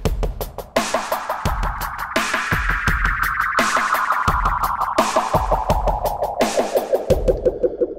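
A rhythmic, plucky loop repeats through the Echo Mania echo effect, with a bright resonant tone sliding slowly downward and smeared, spacious repeats trailing each hit.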